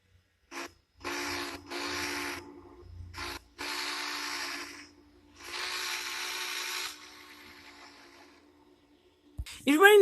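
A locomotive whistle sounds in several separate blasts of varying length, loud and close, with a steady harmonic tone and breathy noise, then fades near the end before a brief sharp noise.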